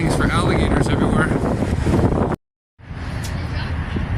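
Strong wind buffets the microphone at a Louisiana rest area beside a pond, loud gusty rumble broken by a brief silent gap, with talk mixed in.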